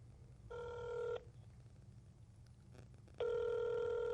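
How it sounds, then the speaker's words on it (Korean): Ringback tone of an outgoing telephone call: two separate electronic ring bursts with a short gap between them over a low background hum, with no talk. "오늘은 그럼 테라님한테 전화를 한번 해봐야겠다"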